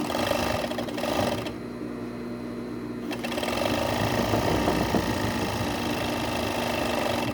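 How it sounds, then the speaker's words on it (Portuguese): An overlock sewing machine trims close along a seam of a spaghetti-strap camisole, a loud steady motorized whir that pauses briefly near the middle before running on continuously. "No overlock a gente tira bem rente, né? Que é só pra fazer essa limpeza da peça."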